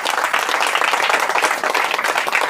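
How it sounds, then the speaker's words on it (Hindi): A church congregation at a Hindi-language Bible sermon claps loudly and steadily, a dense wash of hands filling the whole stretch with no pauses. "मैंने कहा ताली तेज।"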